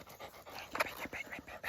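A friendly young dog pants in quick, steady breaths, close and fairly soft, with no other sound.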